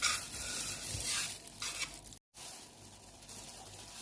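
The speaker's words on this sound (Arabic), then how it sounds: "هسه اضيف الملح نص ملعقة واخلطها جيد ويا الطحين" Salt being mixed into flour for burger bun dough makes a soft, continuous rustling and scraping, close and fairly loud, broken by a brief silent gap midway.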